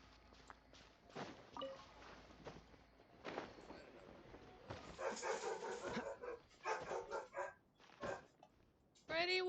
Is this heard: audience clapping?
no